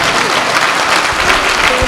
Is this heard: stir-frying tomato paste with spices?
no